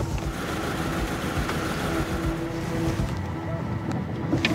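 A car engine runs roughly and unevenly, giving a steady low rumble mixed with wind-like noise throughout, with no speech over it.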